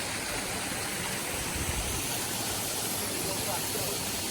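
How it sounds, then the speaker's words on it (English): Steady broadband rush of a river at a hiking trail crossing on the Rainbow Falls Trail, continuous and fairly close, with no clear breaks. "Got a river crossing."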